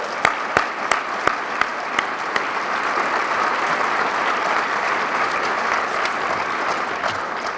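A crowd at an opening event for the Mountain America Center applauds steadily, a few sharp, close individual claps standing out at the start before blending into a continuous wash of clapping.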